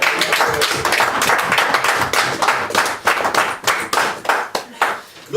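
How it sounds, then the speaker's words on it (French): A church congregation claps in a fast, sharp, fairly close rhythm during a Paris sermon by a pastor, the hand claps pulsing steadily throughout with a faint murmur of voices beneath. "Est-ce que quelqu'un peut applaudir pour Jésus?"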